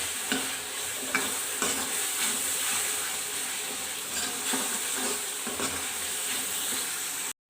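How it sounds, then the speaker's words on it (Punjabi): Spices and tomatoes roasting in a pan for a mushroom and pea curry, giving a loud, steady close sizzle and hiss with repeated scrapes of a stirring spoon, ending abruptly, with no speech heard. "ਮਸਾਲਾ ਜੀ ਆਪਾਂ ਚੰਗੀ ਤਰ੍ਹਾਂ ਭੁੰਨ ਲਿਆ"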